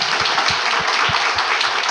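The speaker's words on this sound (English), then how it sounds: "A hand of applause." An audience applauds after a conference presentation and question session, a steady dense wash of clapping filling the whole stretch at an even, fairly loud level.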